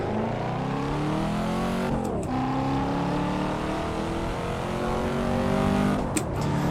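A Corvette C4 ZR1 engine in the Assetto Corsa racing game pulls away hard through the gears, revs climbing steadily with short dips at each shift, loud and continuous with no talk over it.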